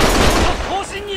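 Gunfire in the video game Judgment: a brief, loud burst of rapid shots that fades into ringing tones, with a voice talking over it.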